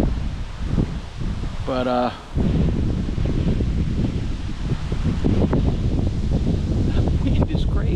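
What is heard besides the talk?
strong wind blowing outdoors at a lake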